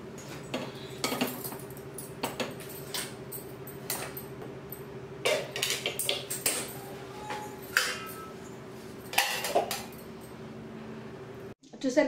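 Dishes and pots being washed in a full home kitchen sink, with scattered clinks and clatters of steel utensils under running water, close by, and a voice talking briefly in the background.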